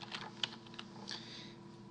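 Fingers type on a computer keyboard while C# code is being written, a quiet, uneven patter of soft key clicks heard up close with no talking.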